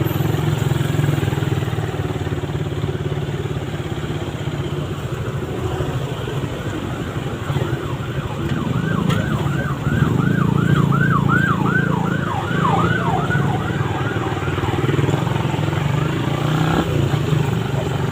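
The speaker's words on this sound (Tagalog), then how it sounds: "Ambulansya." An ambulance siren wails through heavy traffic on a congested city road, its rising and falling tone emerging over a constant engine and road rumble and fading again after several seconds.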